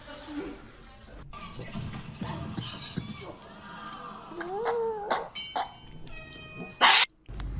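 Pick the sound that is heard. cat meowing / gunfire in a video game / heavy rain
cat meowing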